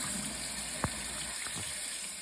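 Rice rinsed under running water in a home kitchen: a steady faint hiss of tap water with a couple of soft splashes and knocks, no voices.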